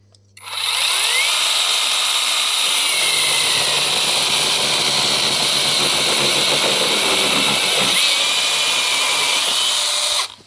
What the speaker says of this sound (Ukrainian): зараз батл в нові категорії китайська пила Консунг за 4 тисячі гривень з двома акумуляторами і зарядним пристроєм